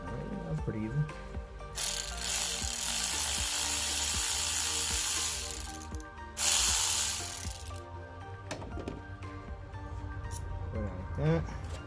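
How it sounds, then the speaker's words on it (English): A ratchet clicks rapidly as it works loose the bolt holding down the ignition coil on a Chevrolet Cobalt SS, interrupted by a couple of longer hissing bursts, close up under a quiet garage background. "let's start by removing that bolt that holds down the coil."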